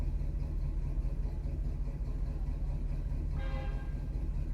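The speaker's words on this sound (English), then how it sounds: "Train horns." A low, steady rumble of a passing train fills the clip, with a brief train horn blast sounding partway through, somewhat distant, heard from a car on the road.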